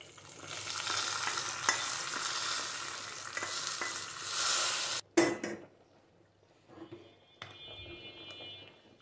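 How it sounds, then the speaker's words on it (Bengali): Whole spices fry in hot oil for a baghar tempering for nihari soup, making a loud, close, steady sizzle that stops abruptly, followed by a few metal pot-and-utensil clanks and a quiet kitchen. "এখন বাগার দিয়ে দিব, হয়ে গেছে। দেখেন কিভাবে বাগার দিই সেটাই দেখাচ্ছি।"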